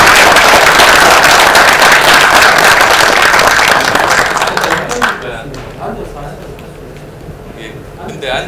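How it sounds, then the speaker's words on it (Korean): Audience applause welcoming a keynote speaker at a Korean forum event, a dense steady clapping from a large crowd that swells loudly for several seconds, then thins out and fades into a quieter room. "큰 박수로 모시겠습니다."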